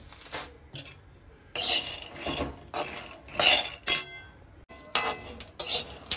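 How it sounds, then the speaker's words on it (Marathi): Peanuts dry-roasting in a pan for sesame ladoos, with repeated bursts of scraping and stirring as a spatula works the nuts against the metal, separated by short pauses, close and fairly loud. "सगळ्यात आधी मी शेंगदाणे भाजून घेते"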